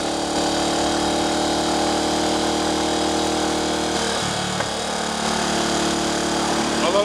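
A Triumph Tiger Cub trials replica motorcycle's small single-cylinder engine runs at a steady, fairly high-revving drone, close and continuous, with a brief change in pitch midway.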